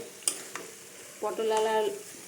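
Spice masala fries in oil in a pan with potatoes and pointed gourd, giving a soft sizzle punctuated by two or three sharp stirring clicks, with a brief voice near the middle.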